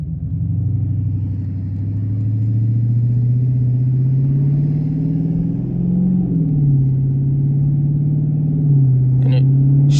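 A car with a 392 engine and a Z Automotive Tazer fitted, cruising in second gear in eco mode, gives a steady low engine drone and road rumble with small pitch shifts as it rolls. A brief faint click comes near the end.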